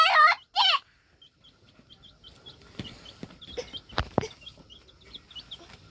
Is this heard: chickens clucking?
yes